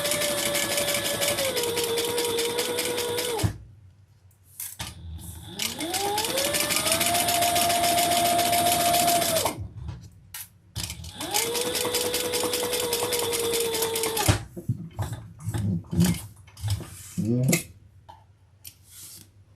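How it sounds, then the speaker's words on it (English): A sewing machine chain-stitches pieces of a mini tote bag, running in three long steady whirring runs with brief stops between them and light handling noises near the end. "Now I'm just going to chain stitch those."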